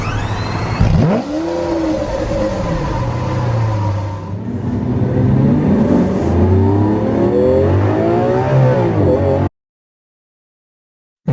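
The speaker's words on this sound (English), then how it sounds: "Lamborghini." A Lamborghini sports car engine revs loudly and close by, its pitch sweeping up and down in several rising and falling surges with no voices, before cutting off into silence near the end.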